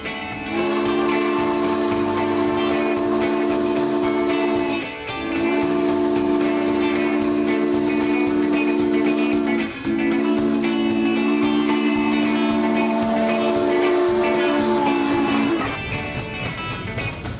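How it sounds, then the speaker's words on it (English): A loud, sustained steam locomotive whistle blows in long held blasts with short breaks, over the rumble of the steam train passing a standing diesel train. "a steam train thundering past a standing diesel train on a siding"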